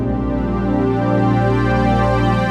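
A sustained Roland Integra-7 synthesizer string pad holds a rich, steady chord throughout, smooth and full with no breaks or voices.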